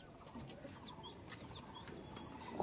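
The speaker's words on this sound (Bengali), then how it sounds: "এরকম অকারণে পায়রা ওড়ান হয় দেখুন" Pigeons in a home loft make soft, faint wing flaps and repeated cooing calls, several short chirps layered over a quiet room background with no talk.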